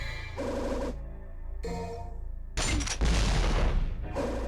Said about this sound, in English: Oh, the grenade gun.